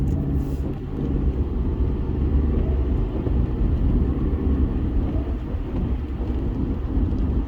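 Rain on a car during a night drive, heard as a steady broadband wash of rainfall over the low rumble of the moving vehicle, continuous and fairly loud throughout with no talk.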